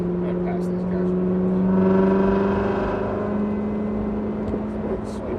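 A BMW M4's engine drones close by with a steady tonal hum that swells around the middle as the car accelerates past other cars and downshifts, then eases back under continuous road noise.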